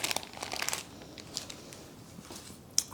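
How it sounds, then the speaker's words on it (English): Baking paper crinkles and tears in short, soft bursts as it is peeled off a heavy baked fruit cake, close and quiet, with a sharper crackle near the end. "Carefully peel off the paper."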